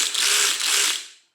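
The ratchet mechanism of a cordless power tool rated up to 55 foot-pounds whirs in a single loud, close burst of about one second, then tapers off into silence.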